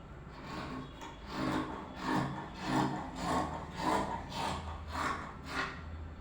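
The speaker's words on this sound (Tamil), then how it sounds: "அடுத்து பார்த்தீங்கன்னா கிப்பை இணைக்கிறதுக்கு நம்ம கொஞ்சம் கிளாத் வந்து கட் பண்ணிக்கலாம்" Scissors snip through cloth for an umbrella skirt in a steady series of about nine rhythmic, close cuts, each a soft rasping crunch, with no talking.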